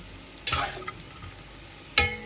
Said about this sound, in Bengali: বাদামগুলো ভাজা হয়ে গেছে।